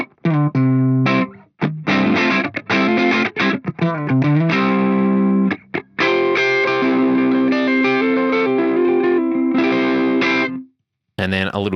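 An electric guitar plays a clean, compressed tone through an Axe-Fx III processor, with sustained chords and picked notes ringing continuously at close range and a short gap near the end.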